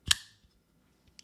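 A Christensen Knifeworks Maverick pocketknife blade deploying: one crisp, loud snap close up, followed by a short ring-out and a couple of faint ticks.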